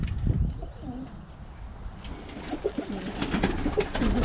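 Birmingham Roller pigeons cooing inside a loft, soft repeated low coos rising among rustling and shuffling, fairly close and growing busier toward the end.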